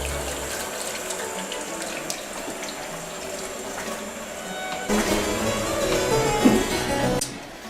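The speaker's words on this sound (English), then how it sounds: "Wash your hands." Tap water runs steadily into a kitchen sink while hands are washed before cooking a spicy simmered fruit dish, a continuous moderate splashing that grows louder and fuller in the second half before cutting off near the end.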